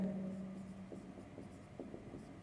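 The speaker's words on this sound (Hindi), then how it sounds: "चलिए नोट डाल के लिख लेते हैं।" Pen or chalk writing out maths notes during a number-system lesson, a series of short scratchy strokes in quick uneven rhythm, close and fairly quiet over a low steady hum.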